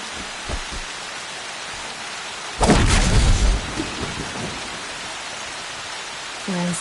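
Heavy rain hisses steadily in the open-world game Horizon Zero Dawn, broken midway by a loud rumbling thunderclap that rolls for about a second before the downpour continues alone.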